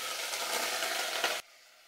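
Pieces of country chicken hitting a hot oiled pan, giving a loud, steady broadband sizzle that cuts off abruptly after about a second and a half, with no voices.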